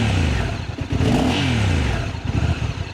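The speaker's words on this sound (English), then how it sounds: "Engine sounds exactly the same from the cockpit." A 2025 Honda NT1100 DCT motorcycle engine revs as heard from the rider's cockpit, a loud, close growl that rises and falls in pitch with one clear rev sweep and a throbbing idle on either side.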